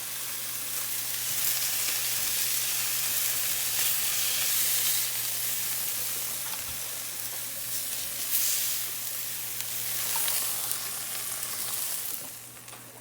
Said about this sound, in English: It's not cooking them, it's searing the outside